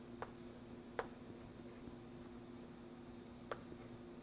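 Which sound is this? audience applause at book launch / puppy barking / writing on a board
writing on a board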